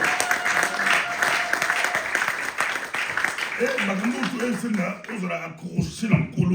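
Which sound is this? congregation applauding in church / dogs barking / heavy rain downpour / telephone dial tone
congregation applauding in church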